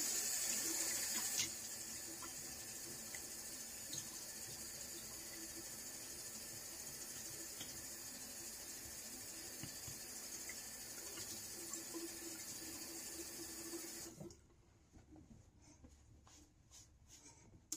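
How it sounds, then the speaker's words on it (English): Cold water runs steadily from a sink tap, a close, even rushing stream that carries on for most of the stretch, then cuts off and leaves a few faint drips and handling sounds. "And get my cold water ready."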